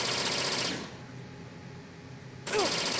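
Guard firing gun bursts in Metal Gear Solid 2: loud, dense rapid-fire rattles at the start and end with a quieter gap between, close and without speech.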